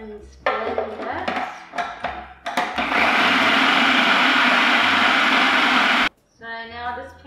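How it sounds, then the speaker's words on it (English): A kitchen blender whirs loudly for several seconds as it purees frozen watermelon, raspberries and banana, preceded by brief clatter and short bursts, then stops abruptly before a voice speaks. "And blend that."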